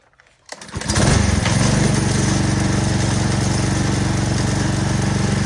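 A gas pressure washer engine is started: a short pull, then the motor catches and roars into a loud, steady drone that continues.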